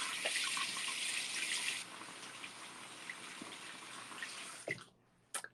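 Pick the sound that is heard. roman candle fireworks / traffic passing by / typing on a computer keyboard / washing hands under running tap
washing hands under running tap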